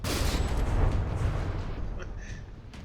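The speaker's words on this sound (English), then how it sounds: "flying backwards with the recoil of its guns, getting tossed around by the explosions" Warship guns firing and shells exploding in the naval combat game From the Depths, a dense heavy rumble of booming blasts that gradually fades, with a voice talking over it.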